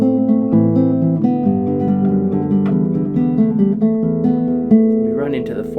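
Solo guitar plays the verse of a song in a guitar arrangement that includes the horn-section part, a steady stream of plucked melody over bass notes, close and clear with no talking.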